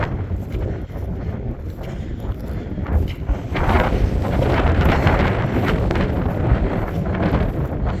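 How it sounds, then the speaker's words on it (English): Strong wind in Frisco buffets the microphone with a constant low roar, gusting harder midway and staying loud to the end. "So it's because of all this wind."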